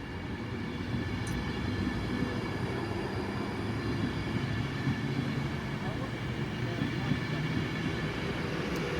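A Virgin Trains train passes through Wigan North Western station at night, giving a steady, loud low rumble with sustained rail noise throughout, and voices heard faintly underneath.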